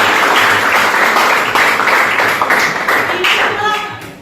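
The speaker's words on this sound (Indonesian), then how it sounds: "Beri tepuk tangan." A class of students gives a loud round of applause in a classroom lesson, with dense close clapping that holds steady and then slowly tapers off, with a few voices near the end.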